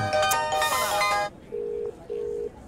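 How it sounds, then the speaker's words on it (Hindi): A mobile phone rings in a Hindi-dubbed comedy film. A burst of busy electronic melody is followed by two steady, beeping tones, each about half a second long with a short gap between them. "कितना गंदा रिंगटोन है।"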